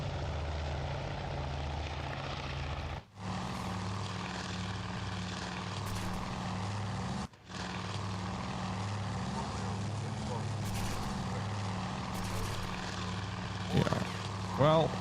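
Droning propeller aircraft engines in the WWII naval air combat video game Task Force Admiral, set at Midway, hum steadily with two brief cut-outs while someone talks over them throughout.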